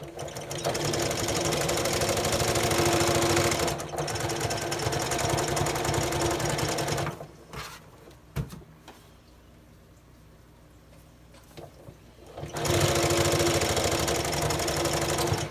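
A sewing machine stitches through pillow fabric, running in long, steady bursts that are loud and close, with a pause in the middle before the motor starts up again.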